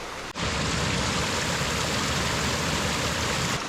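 Emmerson Creek in New Brunswick flows in a lush green setting, a steady broadband rush of water that cuts in abruptly and continues loud and unbroken, close by with no voices.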